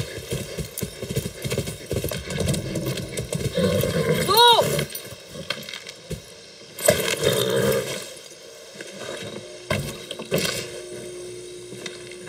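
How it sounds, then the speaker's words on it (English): Horse hooves clip-clop at a steady trot in the Far Cry 6 video game, moderately close, with a brief whinny and game speech over the hoofbeats. "That's a good horse."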